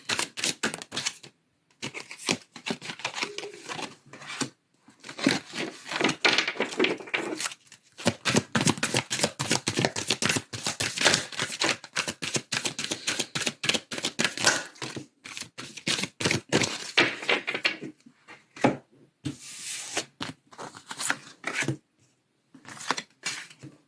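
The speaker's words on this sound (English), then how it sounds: "So I'll just start shuffling." A deck of playing cards being shuffled again and again, rapid riffling bursts separated by brief pauses, close and crisp with no talking.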